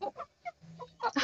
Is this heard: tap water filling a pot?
no